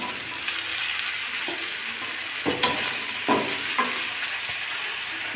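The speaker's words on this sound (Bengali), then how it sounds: "পেঁয়াজ কুচিগুলো নাড়াচাড়া দিয়ে নিয়ে এই যে কুচি করে রাখা আলু দিয়ে দিচ্ছি" Chopped onion and potato stir-frying in a pan, a steady sizzle with a few louder scraping bursts as the pieces are tossed, close and without talk.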